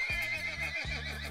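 A horse gives two loud, close whinnies in a row, each a quavering neigh that falls away, with no voices.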